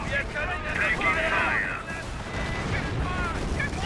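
A continuous roar of gunfire and artillery rumbles from a Company of Heroes battle in a British versus Panzer Elite match, a dense, steady barrage with voices talking over it.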